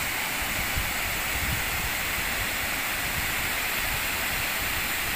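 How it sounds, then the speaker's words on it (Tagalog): Steady, loud rush of Caracha Falls on a mountain in Mindoro, a continuous broadband roar of falling water close by with no talk over it. "Ito po ang tinatawag na Caracha Falls."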